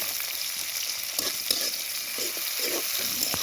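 Chopped onion and green chilli fry loudly in a pan while being stirred, a constant bright sizzle with soft scraping strokes through it and no voices.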